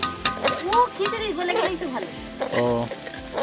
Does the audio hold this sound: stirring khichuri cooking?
yes